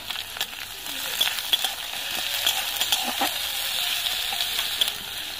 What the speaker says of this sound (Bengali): ফোড়নের জন্য দিয়ে দিচ্ছি গোটা জিরে, আদার কুচি, পেঁয়াজের কুচি, 1 চিমটে হিং দিচ্ছি,